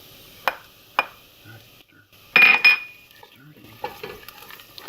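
Black pepper, bay leaves and thyme are stirred into a pot of butternut squash soup base over medium heat, a few sharp utensil taps against the pot and a brief scraping rattle, otherwise quiet.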